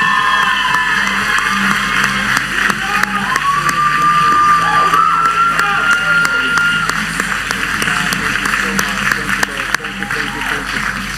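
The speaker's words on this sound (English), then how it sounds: "Why don't we give Jesus a big round of applause instead?" Church congregation applauding and cheering, a continuous crowd roar with clapping layered under voices and a sustained tone, loud and steady throughout.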